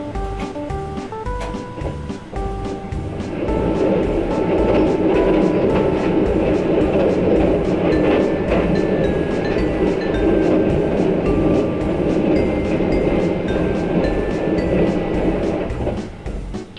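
Sunrise Seto/Izumo overnight sleeper train passing Takatsuki at reduced speed, a steady loud rumble of wheels on rails with rhythmic clickety-clack joints and faint squeals throughout.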